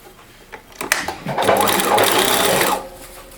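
A sewing machine stitches a homemade fabric mask, with a few quick needle clicks followed by a loud, rapid, steady whir lasting about two seconds, then stopping.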